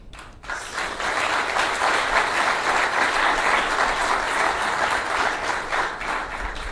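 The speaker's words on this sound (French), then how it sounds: "Merci d'applaudir Patrice Emery Lumumba" A large audience at a formal speech bursts into steady, thick applause that stays full and even from start to finish.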